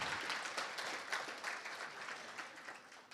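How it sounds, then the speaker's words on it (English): Audience members at a book launch give a round of applause, a soft, fairly distant patter of many hands that gradually thins out. "Let's give Tate Ben a round of applause."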